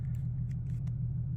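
A Nissan 370Z with a Z1 Level 1 tune idling just after starting, a steady low engine drone throughout, with a few faint clicks and rustles on top.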